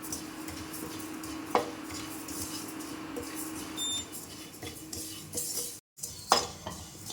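Sambar powder spices are dry-roasted and stirred in a pan, with a spoon scraping and clinking against the metal at irregular intervals over a low steady background, close by and moderately loud.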